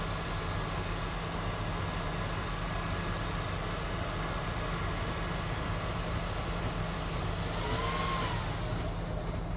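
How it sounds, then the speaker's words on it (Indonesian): An electric fan blows to cool a freshly spliced fiber drop cable, giving a steady, close, continuous broadband whoosh with a low hum underneath, unbroken throughout and with no talking. "Oke, ini saya tiupkan kipas angin."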